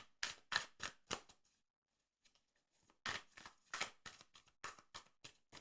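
A tarot deck being shuffled up close, in quick crisp riffling bursts, then a pause of about two seconds, then another run of rapid papery shuffles.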